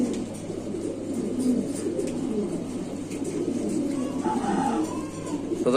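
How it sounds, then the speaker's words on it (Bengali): Young fancy pigeons cooing in a seller's loft, low murmuring coos from several birds close by, steady and fairly loud against a faint hum. "এগুলো শৌখিন কবুতরের বাচ্চা"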